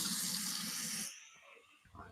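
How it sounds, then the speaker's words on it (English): Water poured into a stovetop pot of stubborn, slow-cooking brown rice, a steady hissing gush that lasts about a second and then cuts off, leaving faint kitchen sounds. "So I'm going to go ahead and pour some more water in here and let that cook down some more"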